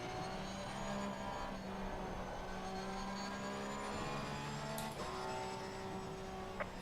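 A Porsche race car engine in a sim racing game hums steadily at high revs, a continuous droning note with small shifts in pitch, heard alone without talk.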